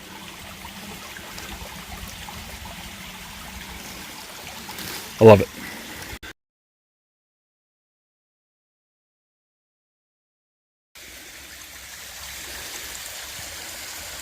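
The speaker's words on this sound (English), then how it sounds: "the current as it goes through this little creek, and just to get that sound of the water" A small creek on a hiking trail in a state park's woods flows with a steady, soft trickle and ripple, interrupted by a brief loud knock and a few seconds of silence; a voice speaks briefly.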